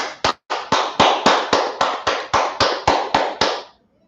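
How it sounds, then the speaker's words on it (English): A group claps in unison, producing about a dozen loud, sharp, evenly spaced claps over a few seconds before stopping, heard close and alone. "Clap it up."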